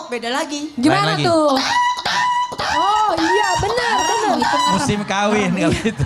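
A person imitates a hen's cackle with their voice, rising and falling squawks repeated over several seconds, loud and close. Other voices mix in.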